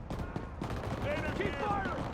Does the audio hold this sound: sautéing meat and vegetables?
no